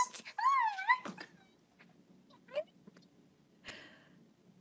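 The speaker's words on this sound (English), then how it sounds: "The dog is getting excited." An excited dog gives a few high, wavering whimpers and yips up close in an indoor setting, followed by quieter scattered whines and faint sounds.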